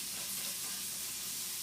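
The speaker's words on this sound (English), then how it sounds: "I'm going to let the bacon cook" Bacon sizzles steadily in a hot pan for okonomiyaki, a dense continuous frying hiss with no voices over it.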